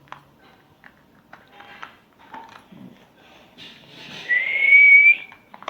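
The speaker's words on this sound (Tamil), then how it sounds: "விசில் வந்துடுச்சு." A pressure cooker on a home kitchen stove lets out a single rising steam whistle, building over about two seconds at the end, after faint scattered kitchen clatter and quiet sounds.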